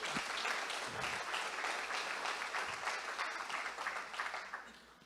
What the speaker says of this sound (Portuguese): Aplaude o teu Deus, por isso aplaude.